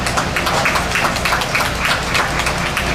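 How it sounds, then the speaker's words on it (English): Crowd applause at a youth sheep breeding show: steady, dense clapping from many hands, close and loud, continuing without break. "round of applause."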